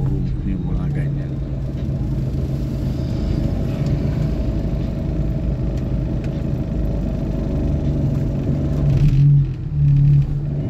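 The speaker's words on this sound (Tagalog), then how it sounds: "Yan yung jeep dito." A jeep engine rumbles steadily in a parking area, a continuous low drone that swells briefly near the end, with a voice talking over it.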